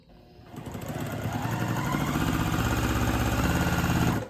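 A sewing machine stitches a folded fabric scrap as a test before quilting, starting up and settling into a rapid, steady mechanical whir and clatter, close and alone.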